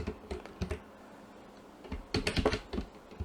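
Computer keyboard typing in irregular bursts of crisp key clicks, a cluster early on, a pause, then a denser flurry of taps toward the end, close and alone with no voices.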